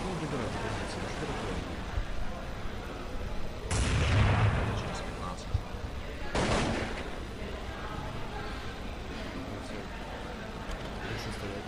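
Gunfire crackles in a competitive shooter video game match, with bursts of shots and booming blasts around four and six and a half seconds over steady background noise, while a commentator talks throughout.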